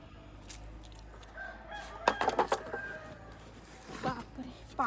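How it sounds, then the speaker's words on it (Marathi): Chickens roaming a village vegetable garden give short, moderately close clucking bursts in the middle of the clip and again near the end, over a quiet outdoor background. "आपल्याकडे कोंबड्या भरपूर आहेत, त्या आतमध्ये जात राहतात सतत"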